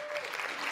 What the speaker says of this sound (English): let's give a round of applause for the palette can